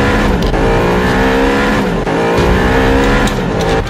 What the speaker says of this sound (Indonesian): di sini ada mobil pemadam kebakaran dan ambulans yang mau balapan